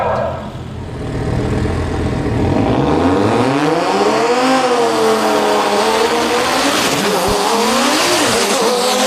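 An Audi drag racing car makes a pass at a drag strip, its loud engine rising in pitch as it accelerates hard, then holding a high, sustained roar that shifts and wavers to the end.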